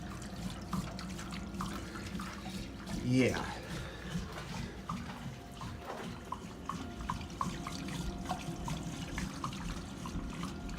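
A flooded new furnace that is not draining gurgles and trickles with water, a steady low wet churning running throughout, while someone speaks briefly over it.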